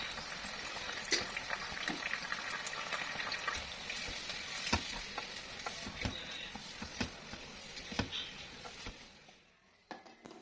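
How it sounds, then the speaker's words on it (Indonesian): Long beans mixed with Medan anchovies stir-fry in a pan with oyster sauce and sweet soy sauce, sounding as a quiet, steady sizzle broken by light spatula taps and scrapes that fade away near the end. "Dan ini aku aduk-aduk dulu sampai setengah layu"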